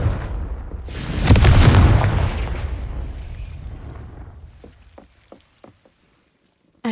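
In Hogwarts Legacy, a Confringo fire spell lands as a loud, deep blast. It rumbles and fades over several seconds, then a few sharp crackles and pops trail off near the end.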